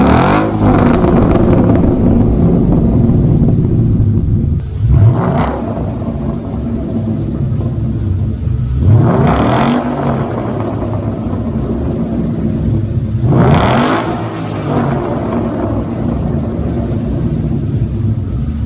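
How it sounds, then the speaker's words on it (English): A Ford Mustang fitted with an H-pipe and an MBRP catback exhaust plus a tune idles with a loud, deep rumble and is revved hard three times, each rev rising and falling sharply. "Let me show you a quick clip of what my old Mustang sounded like right now."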